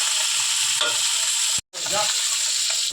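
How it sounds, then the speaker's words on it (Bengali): Pieces of pona fish frying in hot oil in a pan give a dense, continuous close-up sizzle and hiss that cuts out for a split second midway, then carries on steadily, with no talking. "মাছগুলো ভাজা হয়ে গেছে"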